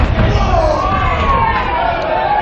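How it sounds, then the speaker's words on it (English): A wrestling video game arena crowd roars and cheers in a continuous dense wash of noise, loud and close throughout, with a commentator's voice talking over it. "The crowd's firmly behind Mason right now."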